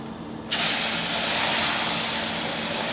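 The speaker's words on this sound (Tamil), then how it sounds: "நல்லா கொதிக்கிற தண்ணியை தான் ஊற்றணும்." Boiling water is poured into roasted wheat flour in a pan while making wheat halwa, setting off a sudden loud, steady hiss that starts half a second in and keeps going without a break.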